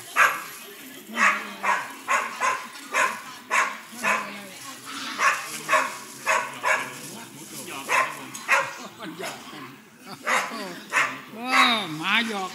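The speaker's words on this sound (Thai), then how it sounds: "มันเห่าอยู่ไหน" A dog barks in a steady run of sharp, evenly spaced woofs lasting several seconds, close and fairly loud, with people's voices mixed in underneath.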